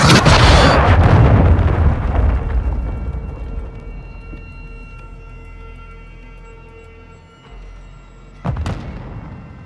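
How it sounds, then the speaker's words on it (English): Cruise missile strikes land in Warzone: a huge close blast opens, then rumbling debris decays over several seconds before a second sharp impact cracks near the end. "Hostiles launched a cruise missile."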